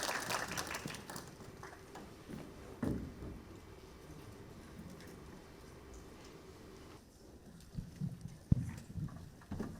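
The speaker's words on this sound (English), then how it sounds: "Please give a big applause to the panelists." An audience applauds the panelists at the close of a symposium session, with scattered, fairly faint clapping that thins out and sputters toward the end.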